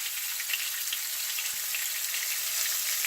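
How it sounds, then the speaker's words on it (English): Continuous, loud crackling and sizzling of catfish pan-frying in hot oil, steady throughout with no voices. "I'm just pan frying it. I'm not deep frying it."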